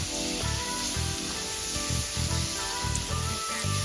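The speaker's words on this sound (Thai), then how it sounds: "เราก็จะใส่ก้านคะน้าลงไปก่อนค่ะ ผัดให้ก้านคะน้าสุกก่อนนะคะ" Chinese kale stems stir-frying with pork in a hot pan, a constant loud sizzle broken by rhythmic scraping strokes of the spatula.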